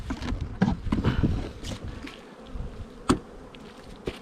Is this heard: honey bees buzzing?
yes